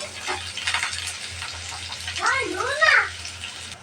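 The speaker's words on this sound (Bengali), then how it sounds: "এখন দিয়ে দেবো পেঁয়াজ কুচি আর মরিচ কুচি পেঁয়াজটা ভালোভাবে ভেজে নেব" Chopped onion and chili hitting hot oil for a koi fish curry give a steady, close sizzling hiss, with a brief voiced sound rising over it near the end.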